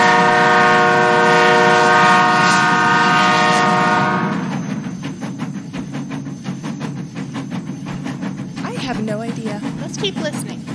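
Train horn sounds a long, loud sustained chord for about four seconds, then a passing train rumbles with rapid clickety-clack of wheels, squeals and clatter close by.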